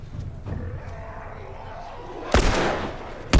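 A single loud gunshot in The Last of Us, a sharp blast in a high school setting following rumbling ambient game sound, with another abrupt crack at the very end.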